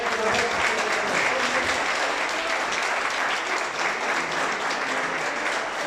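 A congregation applauds for the men of God at a church gathering, a dense, continuous clapping that stays loud and even throughout, with some voices mixed in.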